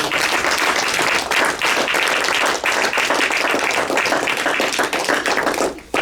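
A church congregation clapping as an offering of applause, a dense, loud, sustained burst of many hands that runs for several seconds and cuts off sharply near the end.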